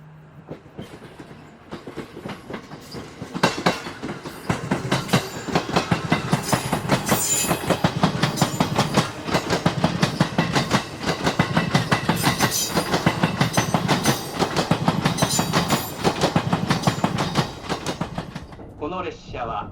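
Azusa limited express train running on the Oito Line, heard from inside as a loud continuous rumble with rhythmic clickety-clack of wheels over rail joints, steady for most of the run before fading at the end.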